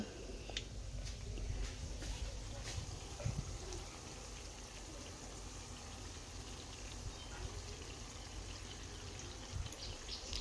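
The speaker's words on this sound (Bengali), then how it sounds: "এই সসটা আমরা রান্নার মধ্যে দিয়ে দেবো" Prepared sauce is poured into banana-flower manchurian cooking in a pan, giving a soft, steady sizzling and trickling that stays faint and continuous throughout.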